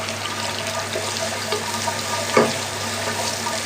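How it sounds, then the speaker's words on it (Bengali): Onions frying in a pan without oil give off a soft, steady hiss with faint scraping and one brief louder clatter near the end, close by and otherwise even. "এই দেখেন তেল ছাড়া পেঁয়াজ ভাজি"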